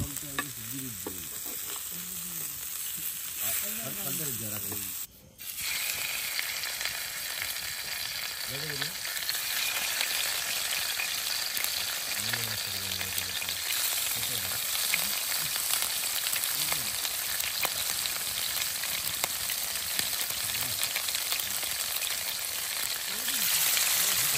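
Anjal kingfish fries over an outdoor campfire at a riverside group camp, with a continuous dense crackling sizzle. Voices talk intermittently over it.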